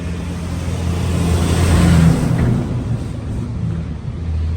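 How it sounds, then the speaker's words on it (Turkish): A truck approaches on a road, its engine rumble swelling to a loud peak as it nears, then easing off as it passes. "Kamyon geliyor."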